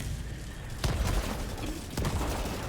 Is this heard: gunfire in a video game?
yes